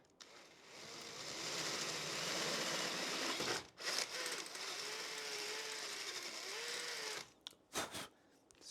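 A power drill boring a 9 millimetre hole for auxiliary switches in a Land Rover Discovery 3 (LR3): a steady, close grinding whir that runs for several seconds, pauses briefly, then resumes before stopping in short bursts.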